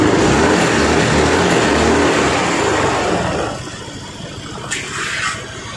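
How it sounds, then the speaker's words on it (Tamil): A Yamaha Fascino BS6 scooter with a starting problem idles steadily after an electric self-start, a loud, constant engine drone that drops to a softer level partway through and continues quietly. "இப்போ பார்த்தா தெரியும் வண்டி வந்து பக்காவாக வந்து ஸ்டார்ட் ஆகி ஓடிக்கிட்டு இருக்குது"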